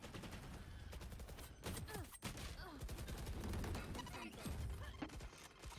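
Rapid gunfire in the tactical shooter Valorant crackles in dense bursts for several seconds, with a brief lull midway before the shooting resumes. It stays quiet overall, with no talk over it.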